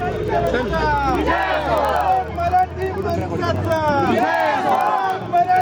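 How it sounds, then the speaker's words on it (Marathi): Shiv Sena and MNS party workers in Maharashtra celebrate their alliance with loud, rhythmic group chanting and cheering. Voices close by rise and fall in repeated waves of slogans over crowd noise. "मनसे व शिवसेनेचे कार्यकर्ते जल्लोष करताना दिसत आहेत"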